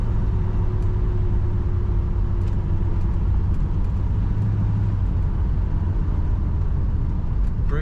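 A 1980 Pontiac Trans Am Indy Pace Car with T-tops cruising smoothly on the road, its steady low engine drone and road rumble continuous and fairly loud throughout, with no talking.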